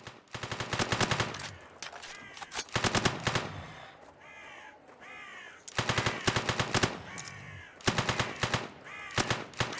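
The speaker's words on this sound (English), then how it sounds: "I also placed a survivor, shooting at the zombies to draw extra attention" Bursts of automatic gunfire from survivors shooting at zombies in the co-op shooter Back 4 Blood, loud rapid rattling volleys in several stretches with short pauses and eerie creature cries between them.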